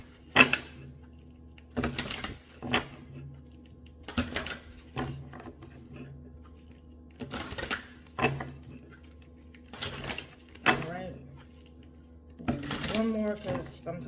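A deck of reading cards is shuffled in repeated short riffling bursts, each a brief crisp flutter separated by pauses, close and moderately loud, with a voice speaking quietly between them.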